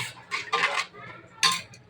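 Metal utensils scraping and clinking in a dish as salted boneless chicken with lemon juice is mixed, a few close, distinct scrapes separated by short pauses.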